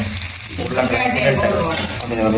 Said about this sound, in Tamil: உருளைக்கிழங்கு பிரட்டல் இது வெங்காயம் பச்சை மிளகாய் வதங்கட்டும்.